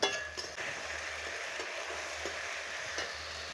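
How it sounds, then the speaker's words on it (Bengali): Tomato paste hits fried ginger and garlic in a pan and sizzles steadily, an even close hiss of frying with a faint clink or two of stirring, no voices. "এবার একটা টমেটো আমি পেস্ট করে রেখেছিলাম, সেটা দিয়ে দিলাম।"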